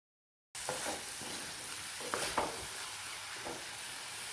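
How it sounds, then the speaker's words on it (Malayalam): Tomato curry with salt added is stirred in a pan: after a short silence, a steady sizzle begins with a few scraping strokes of the spoon, close and alone. "നന്നായിട്ടൊന്ന് ഇളക്കിയും കൂടെ കൊടുക്കാം"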